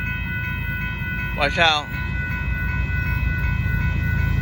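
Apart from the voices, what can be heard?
northbound CSX auto train passing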